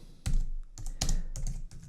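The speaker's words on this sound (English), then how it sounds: "Typing and talking at the same time has never been one of my strengths." Keys clatter on a computer keyboard as someone types while editing photos in Adobe Lightroom, with several quick bursts of close, crisp keystrokes separated by short pauses.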